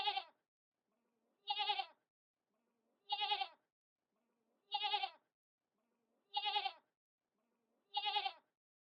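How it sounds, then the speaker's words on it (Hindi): A goat bleats in an animated story, six separate wavering bleats evenly spaced about every second and a half, clear and alone against silence. "अरे, ये आवाज तो लालिता की बकरी की है।"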